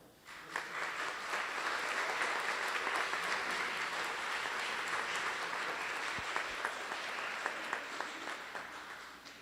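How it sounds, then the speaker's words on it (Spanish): An audience of invited guests at a university event in Guanajuato applauds steadily and loudly for the full stretch, a dense wash of many hands with a few sharper individual claps standing out near the end. "Brindémonos un fuerte aplauso."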